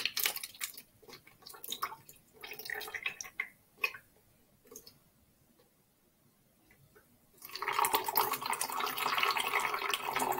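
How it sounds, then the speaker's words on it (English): A quarter cup of vinegar is poured into a plastic bottle, which gives a loud, steady gushing splash over the last few seconds, after some faint clicks and handling noises. "I'm going to pour this quarter cup of vinegar into this bottle."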